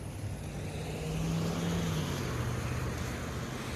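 A car drives past on a Toronto street, its engine hum swelling faintly and then fading against steady city background noise, with no voices.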